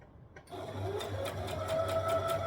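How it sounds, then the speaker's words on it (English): A sewing machine stitches and backstitches dress fabric along a side seam. After a brief quiet start, its steady close-up motor whirr runs continuously, with rhythmic needle ticks. "So I'm going to stitch and back stitch."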